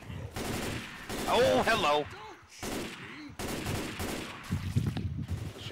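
Shotgun and other gunfire crackle in a first-person shooter game, repeated loud bursts mixed with game effects, while a player talks over the action.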